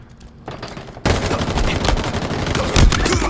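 Dense bursts of automatic gunfire and rapid shots in the Halo video game, starting quiet then jumping loud around the one-second mark and continuing as a sustained, near fusillade with a heavier impact late on.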